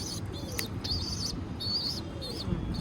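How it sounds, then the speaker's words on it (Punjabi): Baby pigeons, hungry, give repeated high, thin chirps in short bursts, close by and insistent, over faint background rustling. "ਭੁੱਖੇ ਨੇ ਵਿਚਾਰੇ ਚੀਂ ਚੀਂ ਕਰੀ ਜਾਂਦੇ ਆ"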